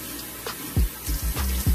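A bathroom tap runs while water is splashed onto the face and hair edges, making close, uneven splashes and sloshes over a steady background rush.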